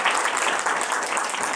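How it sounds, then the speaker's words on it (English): An audience at a law school event gives panelists a round of applause: brisk, dense clapping, loud and steady for the short stretch, with no talk over it. "So a round of applause for our panelists"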